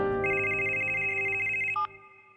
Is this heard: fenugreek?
no